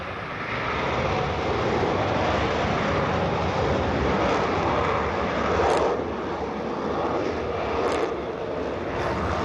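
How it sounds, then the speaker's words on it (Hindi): A Rafale fighter jet taking off at Ambala, Haryana: a loud, steady broadband engine roar that holds at full strength throughout, dense and sustained with no pauses. "जब टेक ऑफ इस समय विमान कर चुका है राफेल"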